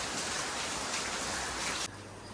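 Steady rain falls at a constant hiss on a travel day, filling the sound alone with no voices before cutting to a quieter, duller background near the end.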